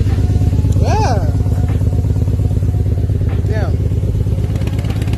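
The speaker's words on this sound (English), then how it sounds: "But yeah, she's idling now." A twin-turbo Nissan Z31 engine with a new fuel pump idles steadily and loudly close by, a constant low throbbing rumble, while a voice briefly exclaims.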